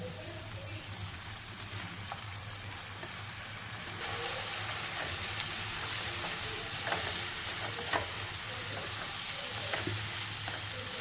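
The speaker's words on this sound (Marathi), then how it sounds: "ही आपली स्वच्छ धुतलेली कापलेली भाजी ती टाकायची" Washed, chopped fenugreek leaves frying in spice masala with potato, a dense steady sizzle that grows louder partway through as the leaves go in, with faint stirring ticks, close up.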